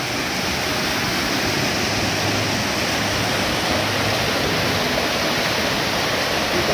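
Strong, steady rush of stream water flowing hard past durian orchards, a loud continuous broadband roar with no pauses and no voices.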